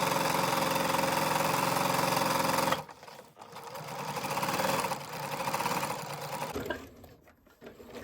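Electric sewing machine stitching a scrap-fabric drawstring bag, running loud and steady at first, then a brief stop and several shorter bursts of stitching with pauses between.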